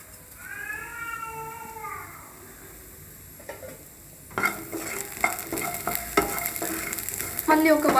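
Roasted green peas being stirred with salt in a hot pan, a soft sizzle with scraping strokes that grow louder and busier partway through, with faint voices in the background.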